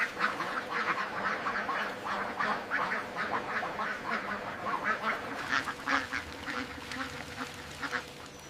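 Ducks quack continuously inside a mega duck factory raising birds, a dense overlapping chorus of many birds at steady volume with no talk.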